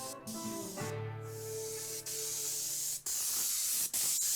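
Paint sprayer applying house paint, giving a steady loud hiss that runs almost continuously, broken by a few brief cut-offs where the trigger releases, with a low tonal hum underneath.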